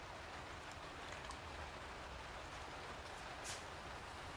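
Rain pattering steadily outside open studio windows, a faint, even hiss with no breaks throughout.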